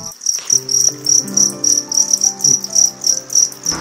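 Crickets chirp loudly and steadily indoors, a fast regular pulse of bright chirps repeating throughout over a soft low tonal background.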